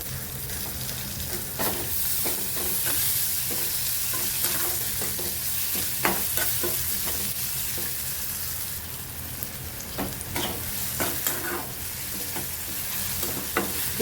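Finely chopped tomato fries with ginger-garlic paste in a pan for a sprouted urad dish, a close, continuous sizzle broken by repeated scraping stirs and clinks of the spoon.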